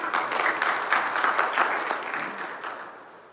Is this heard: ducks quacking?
no